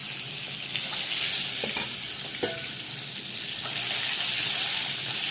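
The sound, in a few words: frying an egg in a pan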